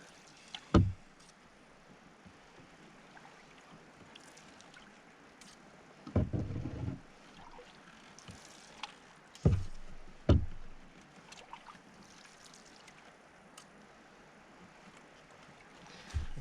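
An Old Town canoe paddled on a Scottish loch, with soft intermittent paddle strokes and water splashes against a quiet background of faint wind and lapping water.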